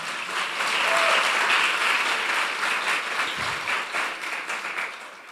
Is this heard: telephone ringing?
no